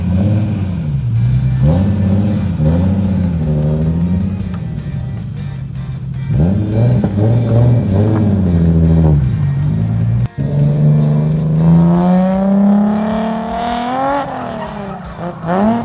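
A drift car's engine revs hard in rising and falling surges, tires squealing and skidding through long slides, loud and close with no talk.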